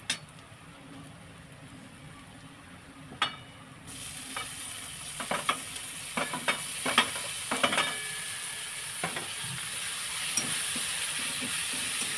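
Tomatoes sauté in oil with onion and asafoetida for stuffed bitter gourd curry, a sizzle that suddenly grows louder and brighter partway through, with close scraping stirs and clinks of a spoon against the pan.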